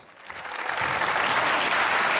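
Studio audience applause on a Pakistani comedy show, starting softly and swelling within the first second into a full, dense, loud burst of clapping that holds steady to the end.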